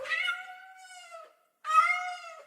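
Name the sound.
cat screeching, sound effect in a horror story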